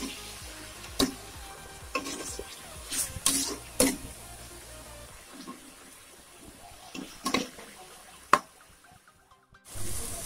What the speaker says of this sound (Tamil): சேர்த்துட்டு பச்சை வாசனை போடுற வரைக்கும் நல்லா வதக்கணும், நல்லா கலர் மாறி அது வரைக்கும் நல்லா வதக்கணும்